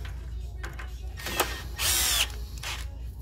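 A power drill tightens a nut on a Freemotion treadmill roller, giving short whirring bursts with one longer, louder run of the motor at close range.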